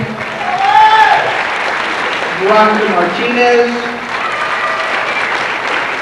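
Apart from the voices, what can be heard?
applause for graduating class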